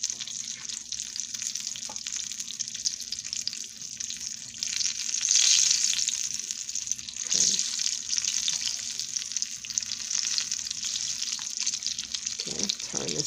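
Sweet potato pies fry in a pan of oil, giving off a steady, close bright sizzle that swells louder for a few seconds midway, with a couple of soft clinks from handling.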